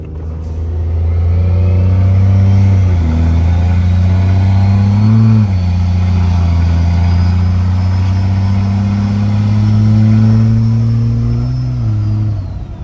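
Heard from inside the cab with the windows up, a Cummins diesel truck with an S472 stainless five-blade turbo revs up and down in long swells, its loud, deep engine drone topped by a rising turbo whistle.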